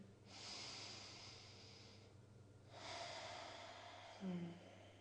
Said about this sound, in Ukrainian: Глибокий вдих через ніс в живіт.